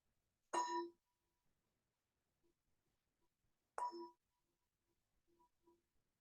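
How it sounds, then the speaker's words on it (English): A meditation bell is struck twice, about three seconds apart, each strike ringing out clearly and then fading quickly in an otherwise quiet room. "So the bell invites us to bring the awareness back to the surface"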